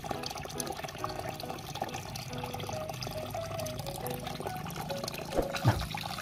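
Water runs and splashes while toy figures such as robot rangers, dinosaurs and a prehistoric turtle are washed, a steady close wash of liquid with a few sharper sloshes near the end.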